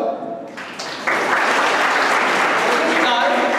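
College audience in India breaking into applause for a guest, the clapping starting faintly and then rising abruptly into a steady, full round that mixes with some crowd murmur.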